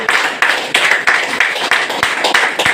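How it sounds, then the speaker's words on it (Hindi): Loud, close audience clapping at a business seminar, sounding as a series of sharp, rhythmic unison claps that come in regular bursts, each one ringing briefly before the next, with no one talking. "एक बार जोरदार तालियां हो।"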